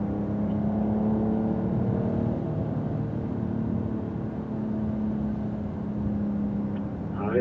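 A Porsche Carrera GTS engine drones steadily at close range while accelerating on a wet track, a continuous rumbling whir with no speech.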